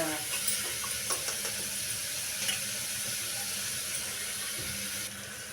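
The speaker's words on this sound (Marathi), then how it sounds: "खूप छान हिरवी हिरवीगार पानं त्याला तरी देतं छान हलवून घ्यायची" Fresh green leaves are stirred in a cooking pan, giving a steady wet hiss with scattered light scrapes and taps of the spoon throughout, fairly close and continuous.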